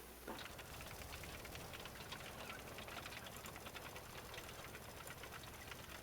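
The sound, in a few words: tractor engine running in video game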